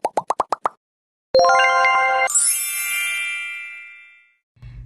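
A YouTube notification bell sound effect: quick plopping pops followed by a bright chime and a sustained shimmering ring that slowly fades, then a low blip at the end, alone without talk.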